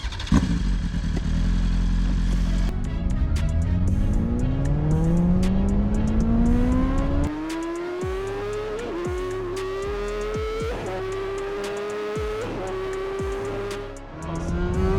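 Tesla Model S Plaid electric sedan and BMW S 1000 RR sport motorcycle launching side by side from a rolling start in a drag race: a loud, steadily rising engine whine climbs through the run with sharp gear-shift breaks, close and continuous, no talking.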